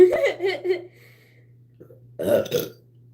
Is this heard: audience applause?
no